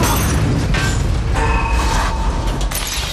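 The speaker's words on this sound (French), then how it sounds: "Il faut contenir l'explosion!" A loud explosion blast from the TV series La Casa de Papel, with a grenade going off in a lift: dense rumbling booms and crashing debris fill the scene before cutting off abruptly.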